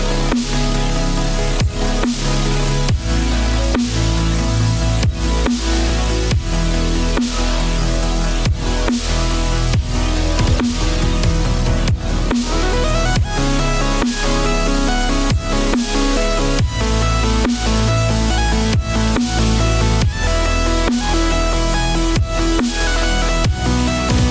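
The final drop of a future bass / melodic dubstep track: loud and dense, with a pounding kick drum, heavy bass and bright synth layers driving steadily at full energy throughout.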